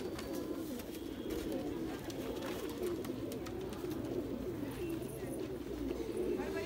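Rampuri pigeons coo in soft, repeated throaty rolls, fairly close and low in level, over a constant background hiss and occasional faint clicks.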